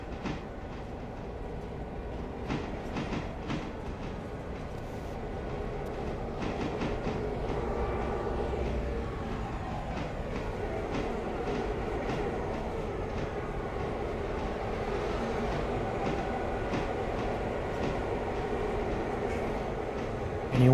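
Train with a caboose rolling steadily in the railroad game Railroader, a continuous rumbling rail noise with faint clickety-clack and an occasional soft wheel squeal, loud and unbroken for the whole stretch.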